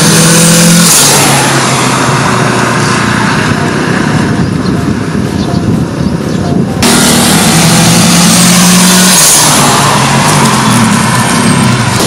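Turbocharged Mitsubishi Xpander engine revving from outside the car, loud and continuous over about twelve seconds with rising and falling pitch, a sharp break near the middle where the throttle drops and a hiss like a blow-off valve.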